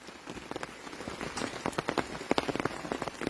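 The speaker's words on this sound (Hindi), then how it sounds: "बारिश हो रही है और इस बारिश में भी हम मांस गार्डन की सैर कर रहे हैं" Rain falls steadily on a moss garden, with many close, crisp drops pattering on leaves and surfaces in an irregular rhythm over a soft wash of wider rainfall, and no voices.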